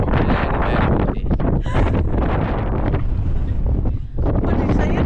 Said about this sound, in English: If you like windy beaches, come here.